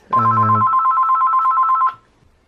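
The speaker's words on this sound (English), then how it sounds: "I just had to answer a phone call" A telephone rings once, a loud sustained electronic trill lasting a couple of seconds and then cutting off, heard on its own with no talk.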